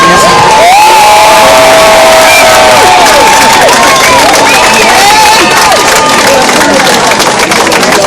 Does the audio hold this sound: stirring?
no